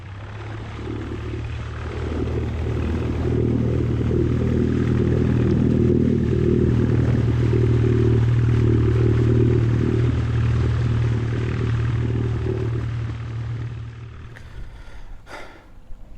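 Pontoon boat outboard motor idling upriver on the Rock River in Byron, a steady low rumbling drone held close and loud for about fourteen seconds before cutting off, followed by a few faint knocks.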